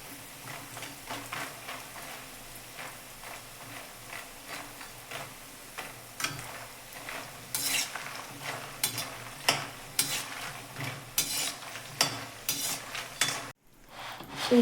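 Puffed fox nuts roast in ghee while being stirred, rhythmic scraping and clattering of a spoon against the pan over a light sizzle, growing busier and louder toward the end.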